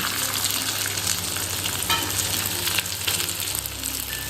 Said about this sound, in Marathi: आता ही कलुंजी टाकते आता आंब्याची पुडी टाकून घेते